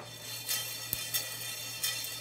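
Cumin and other whole spices dry roasting in a pan, with a few light clinks and taps of a spoon stirring over a soft, steady background hiss.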